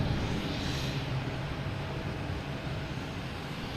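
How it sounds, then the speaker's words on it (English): An Aeromexico airliner arriving from Mexico City roars steadily overhead at Boston Logan Airport, a loud, continuous broadband jet rumble that fills the whole clip with no voices. "There's the Aeromexico coming in from Mexico City."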